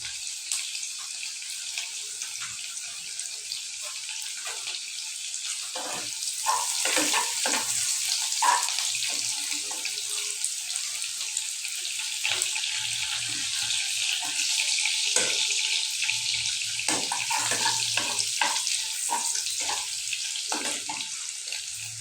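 A few chopped onions fry in a pan for a duck egg curry with potato and tomato, giving a steady close sizzle with scattered crackles and no talking.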